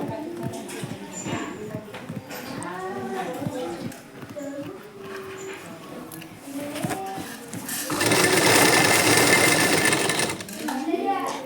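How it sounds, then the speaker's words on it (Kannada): A sewing machine stitches blouse fabric with a steady, rapid mechanical chatter, rising to a louder, denser run near the end, while someone talks over most of it. "ಈ ರೀತಿ ನಾನು ಸ್ಟಿಚ್ ಮಾಡ್ಕೋತಾ ಇದ್ದೀನಿ"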